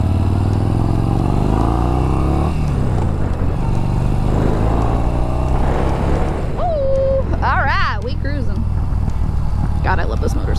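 A motorcycle engine drones steadily at close range while riding around Orlando, with someone talking over it and some brief squeaky tones near the end.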